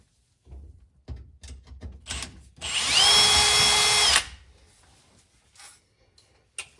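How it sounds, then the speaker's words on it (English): A small drill with a small bit whirs steadily for about a second and a half, loud and close, with quieter tapping and handling noises before and after. "I'm going to try and remember to let you guys know which drill bit I used"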